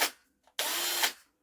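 Cordless battery drill, heard nearby in a short burst, then a pause, then a steady whir for about half a second before it winds down.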